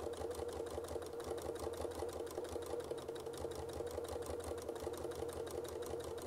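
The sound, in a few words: sewing machine quilting small ovals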